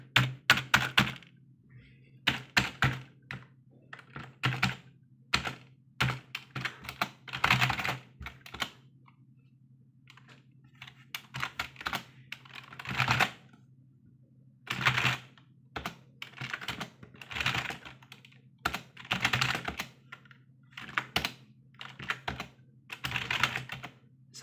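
Rapid key clatter from a USB computer keyboard, close and fairly loud, coming in irregular bursts with short pauses over a steady low hum.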